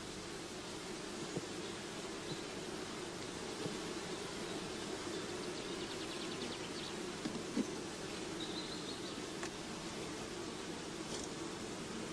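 Honeybees from a hive colony keep up a dense, steady buzz at close range, a continuous drone that lasts throughout with no talking.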